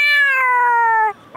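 A single drawn-out meow, clear and close, with a steady harmonic tone that slowly falls in pitch before cutting off; a person imitating a cat.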